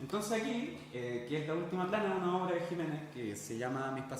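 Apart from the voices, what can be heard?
No everyday noises stand out.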